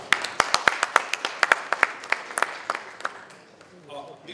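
Audience applause of scattered individual claps, sharp and distinct at first, then thinning and fading out over a few seconds, with faint voices emerging at the end.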